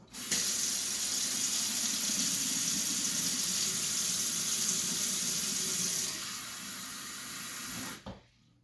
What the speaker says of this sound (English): But let me just put in the water now.